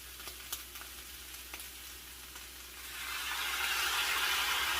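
Hot water poured into a sizzling pan of chayote and ground beef sauté, the steady frying crackle swelling into a louder, broader hiss as the liquid hits the hot pan.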